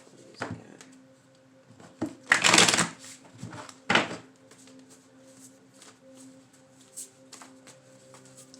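Tarot cards being shuffled in a quiet room, giving a few brief riffling and flicking bursts with soft handling noises between them.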